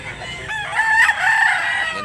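A rooster crows once nearby, a loud, drawn-out call lasting over a second against faint background noise.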